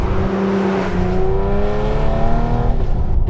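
A Rindt Porsche 964 RSR air-cooled flat-six of 300 horsepower pulls hard in third gear, a loud close engine note climbing steadily in pitch as revs rise, then easing off at the end.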